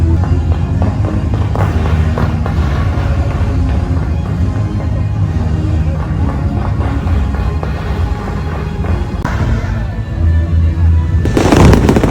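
Fireworks go off continuously, loud and dense crackles and booms layered with crowd noise at a busy outdoor spot on Phu Quoc island, Vietnam, with a sharp burst near the end.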